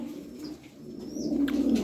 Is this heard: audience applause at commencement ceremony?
no